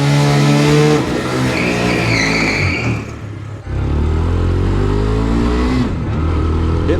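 Cheap Wal-Mart super sport motorcycle being ridden, engine revving up through gears with rising pitch, a brief throttle lift, then pulling hard again, loud and close with wind noise.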